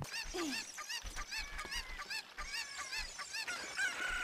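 Chickens in the Zelda Ocarina of Time 3D video game squawk and cluck in a rapid, overlapping series of sharp, nasal calls against a busy game soundscape.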